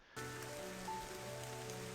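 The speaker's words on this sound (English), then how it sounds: "Okay, we have rain." Steady rain falls in an RPG Maker game scene, a dense, even hiss of drops on a surface that starts suddenly and holds unchanged, joined by a faint sustained tonal hum.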